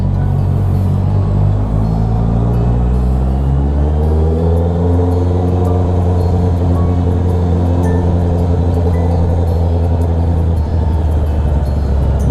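A motorcycle fitted with an Akrapovic muffler and ECU tuning idles and revs steadily at a workshop in Bulacan, its low engine drone rising and falling in pitch, loud and close, with no voices.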